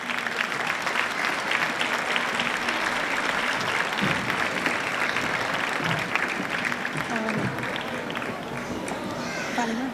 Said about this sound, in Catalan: Un fort aplaudiment per a elles.